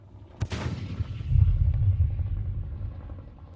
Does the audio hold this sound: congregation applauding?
no